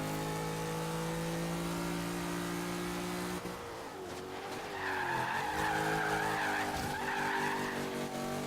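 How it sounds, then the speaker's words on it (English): A 1969 Chevy Camaro Z28 slides through a turn in the Forza Horizon 3 racing game, its engine droning loudly before the tires screech in a long, wavering skid as the car accelerates out of the corner. "Pretty good slide through that turn."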